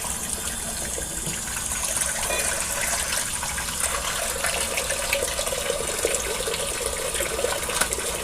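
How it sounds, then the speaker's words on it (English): Tap water runs steadily into a bathroom sink during a traditional wet shaving routine, a loud, continuous splashing gush close by with no one talking. "I'm going to run a little bit of water in my sink."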